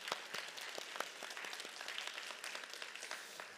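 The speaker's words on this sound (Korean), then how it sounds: "우리 한번 감사와 찬송의 영광을 박수로 한번 올려드립시다" A church congregation at a Sunday worship service gives a sustained round of quiet, distant clapping, crisp individual claps audible throughout.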